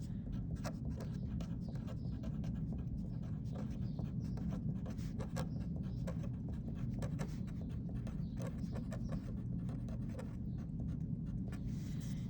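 Fraction addition being written out by hand, with steady scratchy strokes and taps repeating throughout over a constant low background hum.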